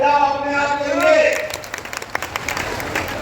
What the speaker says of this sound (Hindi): जोरदार ताली बजाओ अपने आप के लिए